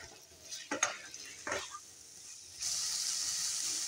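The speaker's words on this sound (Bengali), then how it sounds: "চিকেনের টুকরোগুলো দিয়ে ভালো করে নেড়ে নেব, নিয়ে চাপা দিয়ে রান্না হতে দেব।" Chicken pieces with spices stirred in a pan, giving a few close scraping strokes early on, then a steadier sizzling hiss as the pan is covered to cook.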